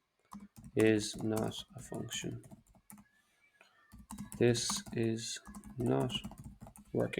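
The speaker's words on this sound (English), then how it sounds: "Again, apologies for the typing noise." Rapid clicking on a computer keyboard in close bursts while someone works on Power BI formulas, heard under and between a person talking.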